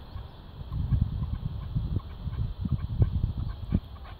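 Caged decoy bird calling, short soft clucking notes repeated in an irregular rhythm, low and fairly faint against a quiet background.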